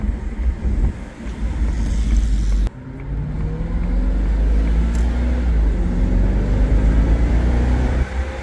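A 2001 Jaguar XKR cruising on a road from inside the cabin: a loud, steady engine drone rises in pitch as it accelerates, with road and wind noise and a brief drop partway through.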